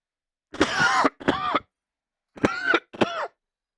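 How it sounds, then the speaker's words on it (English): A person coughs and clears their throat in four short, close, loud bursts: two quick ones, a pause, then two more, with silence between. "Man, oh man, I cannot shake this cough."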